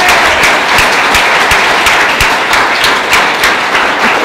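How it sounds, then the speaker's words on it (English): Audience applause at a Thunder Bay, Ontario town hall, steady and dense clapping from a sizeable crowd, loud and sustained throughout with no talking over it. "Let's give her a big round of applause."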